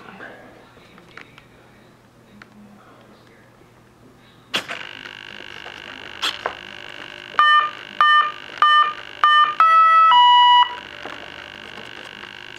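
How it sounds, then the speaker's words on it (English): Initializing beeps from the electronics of a Banana Hobby BF 109F RC plane: a loud series of short, clear electronic tones in quick rhythm, ending in a longer pair of pitched notes, after quieter handling noise. "Those are your initializing beeps."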